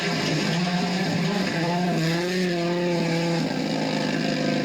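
WRC rally cars race at the Central European Rally, with loud, sustained engine roar and shifting rising and falling engine tones, close and continuous with no pauses.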